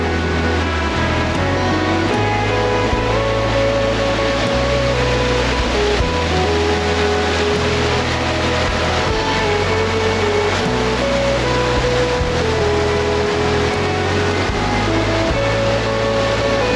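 The Cascades waterfall in South West Western Australia rushes in a constant, dense roar of falling water that never lets up, with music playing over it throughout.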